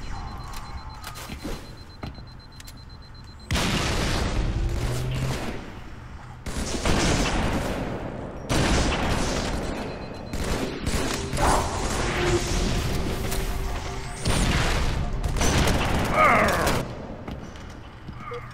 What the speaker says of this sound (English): Oh, he pulled out the AR.